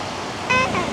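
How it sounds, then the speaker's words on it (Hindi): Rain-swollen waterfall roaring with a steady, dense rush of water, heard close and loud throughout, with a brief whistle-like tone rising over it midway. "आप यहाँ देखो बारिश की वजह से क्या रौनक आ गई है इस वाटरफॉल में"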